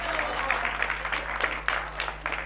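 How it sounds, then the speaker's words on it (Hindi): An audience at a Hindi comedy poetry gathering claps loudly in uneven bursts, the applause rising and falling over a low electrical hum. "एक बार जोरदार ताली बजाओ।"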